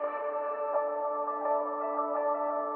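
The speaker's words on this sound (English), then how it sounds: "So those atmospheres sound like this." Sustained synth atmosphere pad from a song, a soft, steady layered chord drone that holds evenly throughout with no other instruments.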